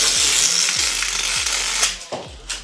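Skinny pliers working a plastic electrical conduit tube to loosen it, producing repeated ratcheting clicks and crackles close to the microphone over a steady background hum.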